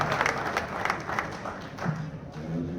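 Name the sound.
audience applause at hall of fame ceremony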